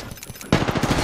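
Rapid automatic gunfire in a battle royale video game, a loud burst of overlapping shots erupting suddenly halfway through after quieter, softer firing.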